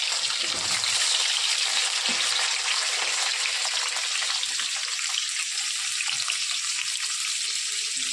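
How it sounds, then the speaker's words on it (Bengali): Potatoes fry in hot oil in a pan, a loud, dense crackling sizzle that holds steady throughout with faint watery bubbling underneath and no voices. "আগে তেলটা বসিয়ে দিয়েছি, আর তেলটা গরম হয়ে গেছে। এখন আলুটা আগে ভেজে নেব।"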